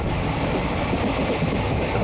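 The Maa Tara Express rolls past Gadadharpur station in Birbhum, a dense, continuous rumble with wind-like rushing noise, loud and close throughout.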